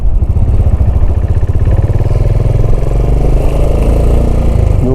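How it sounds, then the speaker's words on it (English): A Royal Enfield 535 Continental GT cafe racer under way, its single engine thumping loud and close in a steady pulsing rhythm as it pulls along. "The bike seems to be running great though."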